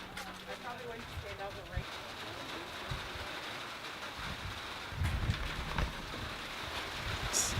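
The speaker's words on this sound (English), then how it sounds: "It's now raining." Rain and wind during a tornado warning make a steady broadband hiss with gusty rumbles and occasional bumps, growing slightly rougher toward the end, with voices faintly underneath.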